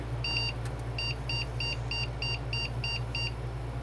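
A computer motherboard with an AMI BIOS sounds a series of eight short, evenly spaced electronic error beeps over a steady low hum of fans.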